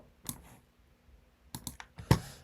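Sparse keystrokes on a MacBook keyboard: a single click, a pause, then a short cluster of clicks and one sharper final press, close and quiet in a still room with no talking.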